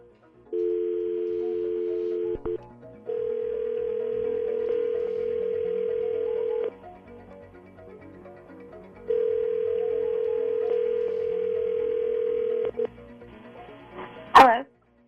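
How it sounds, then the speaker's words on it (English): Phone tones with no talking over them: a short dual-pitch tone, then two long steady dial or ringback tones separated by quiet gaps, with a sharp click at the end. The sound comes from calls being placed to two numbers with spoofed caller IDs so each person thinks the other called. "We dial them both up"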